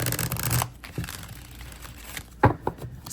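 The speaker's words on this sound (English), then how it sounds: "Let's give it that beautiful card shuffle." Oracle cards from a Runes and the Gods deck are shuffled by hand, quiet crisp riffling and sliding with a sharper snap near the end, close and soft, with no talk.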